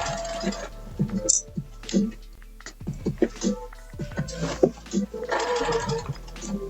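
A sewing machine stitches down a dart in dress fabric, running in short mechanical bursts broken by brief pauses, close and moderately loud.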